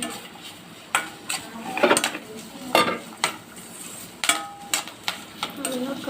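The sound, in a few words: vegetables and curry leaves being stirred and sautéed in a pan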